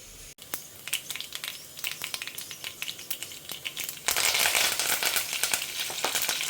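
Mustard and fenugreek seeds splutter in hot oil in a home kitchen, crackling and popping densely, then rising abruptly to a louder, fuller sizzle near the end.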